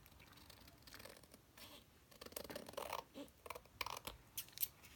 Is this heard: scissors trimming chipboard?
yes